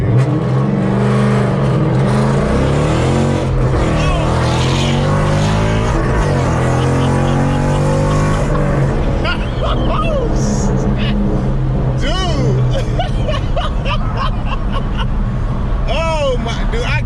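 A 2016 GT Performance Pack sports car engine with a ghost cam rumbles loudly close by and is revved up and down repeatedly, with people talking over the throaty roar.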